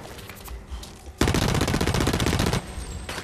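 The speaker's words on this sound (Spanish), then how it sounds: "no sé quién me estaba disparando ahí" Gunfire in the first-person shooter Blacklight Retribution: after a quieter stretch, a loud rapid burst of automatic shots rattles for over a second, then fades into softer scattered shots.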